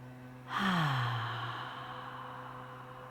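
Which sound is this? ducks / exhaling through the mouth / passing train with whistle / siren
exhaling through the mouth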